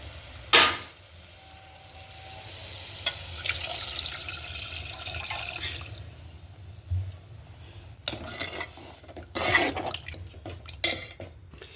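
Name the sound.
pouring tamarind juice into okra curry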